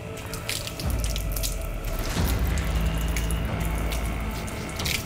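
A person washes their face with water, with running and splashing water heard close and continuous, faint dripping and hand splashes mixed in and no talk.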